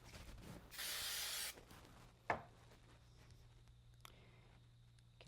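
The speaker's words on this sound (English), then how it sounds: "I'm going to use a little bit of spray glue on the back" A short hissing burst of spray glue from an aerosol can on the back of a craft piece, lasting under a second, followed by a sharp tap and light handling noises in a quiet room.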